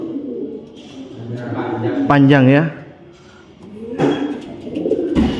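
A contest dove coos in a short rising series of tonal notes amid close conversation, with people talking before and after the cooing.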